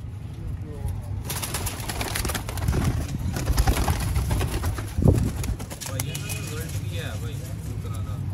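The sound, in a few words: pigeons cooing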